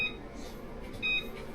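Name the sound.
oven timer beeping while being set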